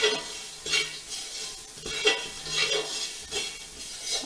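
Poha ingredients stir-fried in a pan: a steady sizzle under repeated scraping strokes of a spoon against the metal, close and fairly loud, with no voices.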